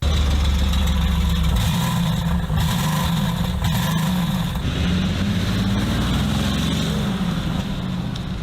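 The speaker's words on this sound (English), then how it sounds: "causing the car to sound and drive like it just can't breathe" A diesel car with a restricted, plugged-up exhaust runs at the block, its engine a steady, loud, muffled low drone with a dull, choked character throughout.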